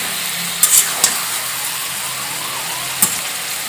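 Chicken frying in hot oil in a kadai for a home recipe gives a steady sizzle throughout, with a few sharp clinks of a utensil against the pan.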